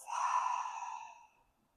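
A single long, deep exhale pushed out through the mouth during a seated chair yoga breathing exercise, breathy and close, fading gently over about a second and a half.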